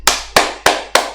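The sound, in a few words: clapping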